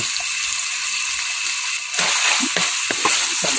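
Garlic and chicken meat frying in a pan for pancit bihon guisado, a steady close sizzle that turns louder and crackly midway with a few sharper pops, no talking.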